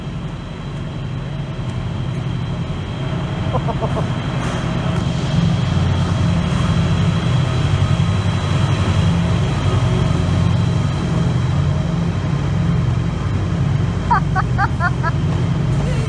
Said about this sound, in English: 68! The beast! The monster! The mother of all locomotive!